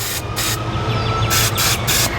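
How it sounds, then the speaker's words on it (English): Aerosol rust-prevention spray hisses onto hidden RV metal in a few close, steady bursts with brief pauses between. "So I'll just spray a little bit here."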